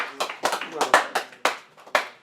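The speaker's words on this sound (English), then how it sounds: "Everybody give a round of applause." A congregation gives a brief round of applause: a handful of sharp, separate claps close by, sounding like only a few people, with voices mixed in.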